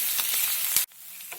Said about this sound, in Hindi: करी लीव्स, 1 मिनट तक भून लेंगे लहसुन की कच्ची स्मेल जाने के लिए